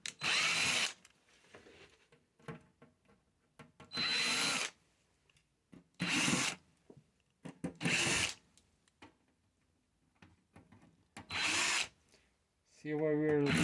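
A power drill removes bolts during a hidden Starlink install, whirring in six loud bursts of about a second each, with quieter clicks and clanks of handling between them and a short ratcheting buzz at the end.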